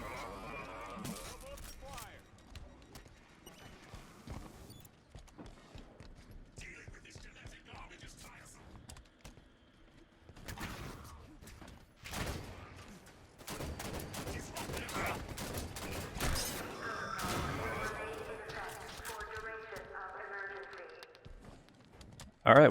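Gunfire from the DMR rifle in the video game Halo 5, heard as scattered sharp shots and bursts spread irregularly through a busy fight, with other game sounds and movement mixed in throughout.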